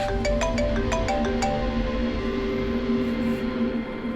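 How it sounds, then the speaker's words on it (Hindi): A mobile phone ringtone plays for an incoming call, a repeating melodic tone pattern that rings loudly at first and then settles into a steadier sustained tone, with no talk over it. "डॉक्टर सालुंकी का फोन था"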